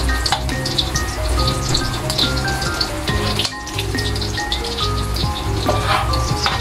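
Meat browning in plenty of oil for Filipino pinapaitan, a loud, dense crackling sizzle with constant popping spatters that runs unbroken close by, with one brief dip midway and no talking.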